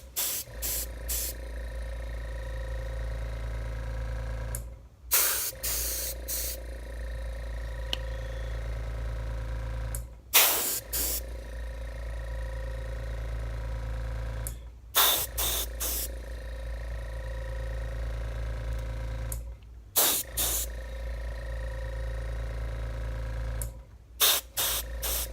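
Durafil coating sprayed onto a Colt Trooper revolver frame: a steady, close spray hiss over a constant low hum, broken every few seconds by short pauses and sharp bursts as the spray stops and restarts.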